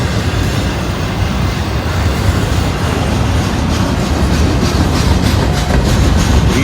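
A Norfolk Southern freight train passes close by at Canal Ridge in Cincinnati, a loud, steady rumble with rhythmic clanking of wheels over the rails and faint squeals, continuous throughout.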